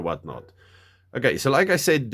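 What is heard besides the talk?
None of the usual background noises is heard.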